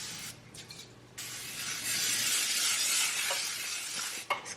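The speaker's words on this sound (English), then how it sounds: "we're gonna spray this pan that's gonna have" Cooking spray hisses onto a brownie pan from a nearly empty can in a home kitchen, a close steady spray lasting a couple of seconds between faint clicks and handling noises.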